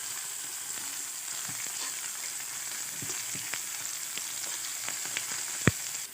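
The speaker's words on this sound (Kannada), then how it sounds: "ಸಣ್ಣದಾಗಿ ಕಟ್ ಮಾಡಿರೋ ಟೊಮೆಟೊನೂ ಹಾಕತ್ತೀನಿ ನಾನು. ಅದನ್ನು ಒಗ್ಗರಣೆಯಾಗನ ಹುರ್ಕೋಬೇಕು ಈ ಥರ." Finely chopped tomatoes fry in an oil spice tempering for street-style egg Maggi, giving a continuous close sizzle with scattered crackles and stirring clicks.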